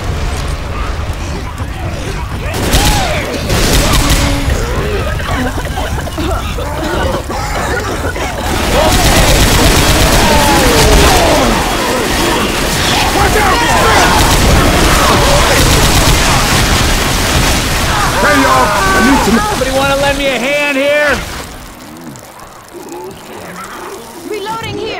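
Video-game gunfire in Left 4 Dead 2, in The Passing underground survival mode: dense, continuous bursts of shots and booms run under frantic shouting voices and fade near the end.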